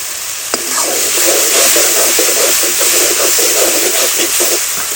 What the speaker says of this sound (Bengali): একদম মশলাটাকে ভাজা ভাজা করে নিয়েছি